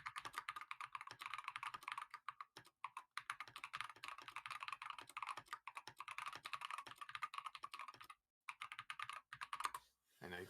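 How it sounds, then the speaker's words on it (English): A computer keyboard clatters with rapid, continuous typing close to the microphone, brief pauses at a few points and a short gap near the end, picked up during a live esports tournament stream. "I know you can probably all hear my keyboard."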